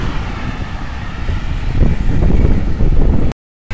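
Strong wind buffets a microphone while cyclists ride at speed on a long road ride, a loud, close, continuous roar and rumble that cuts off abruptly near the end.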